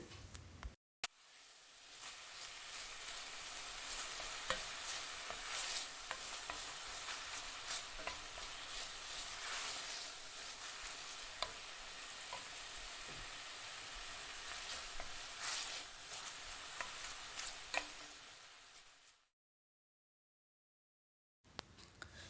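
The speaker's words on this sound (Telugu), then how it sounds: "ఇవి మీడియం ఫ్లేమ్లోనే ఫ్రై చేసుకోవాలి" Small sabudana fritters bubbling in hot oil over a medium flame, a steady, even sizzle with faint crackles that runs for most of the time, then cuts off into silence near the end.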